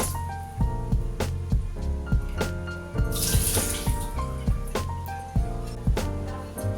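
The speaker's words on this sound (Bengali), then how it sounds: "প্রথমে পনিরটাকে একটা বাটিতে নিয়ে একটুখানি ফ্লোয়িং ওয়াটারে ধুয়ে নিচ্ছি" Paneer rinsed in a bowl under running tap water: a steady splashing stream close by with repeated knocks and handling sounds, and a brief louder gush midway, no talking.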